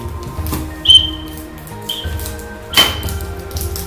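A toy whistle decorated with cartoon characters gives two short, shrill peeps about two seconds apart, close and fairly loud, with a softer tone between them against a busy indoor background.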